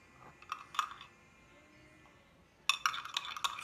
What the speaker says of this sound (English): You want to mix it really good so it can turn into slime.